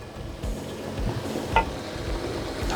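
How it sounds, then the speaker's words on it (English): Vegetables for jambalaya simmering and sizzling in a pot, a soft steady bubbling hiss with light stirring scrapes and a brief clink midway. "we are now going to allow our vegetables to simmer for an extra 5 minutes"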